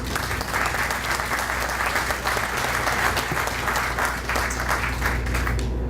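Sustained applause from a crowd at a ceremonial lease signing for the Richmond Marine Terminal, with steady dense clapping filling the space throughout and no voices heard.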